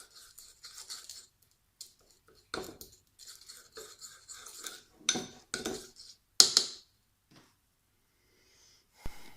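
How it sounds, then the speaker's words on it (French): Close, intermittent scraping and squelching as pigments are crushed and mixed into a flour and oil paint, in short irregular bursts separated by quiet pauses. "Il faut bien mélanger en écrasant les pigments."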